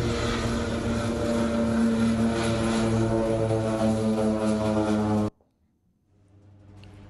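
A propeller aircraft drones steadily and loudly with a strong, even engine hum for several seconds, then cuts off abruptly, leaving near silence and a faint low sound.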